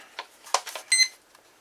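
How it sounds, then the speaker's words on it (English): The electronics of a Flyzone Calypso glider give a few short, quiet beeps on power-up, signalling that the system did not initiate, with soft clicks between them in a quiet room. "that beep is telling me that it did not initiate"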